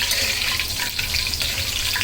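Spiced beef masala with chilies frying in a pan for an achari beef bhuna, a dense, continuous crackling sizzle heard up close for two seconds.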